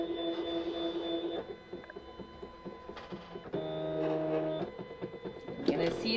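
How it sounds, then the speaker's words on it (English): A Silhouette Graduation cutting machine cuts, its carriage moving back and forth with whirring motor tones that rise and shift pitch in bursts, fairly close, while a person talks in the background. "You're gonna see it work, cut, and make a lot of noises."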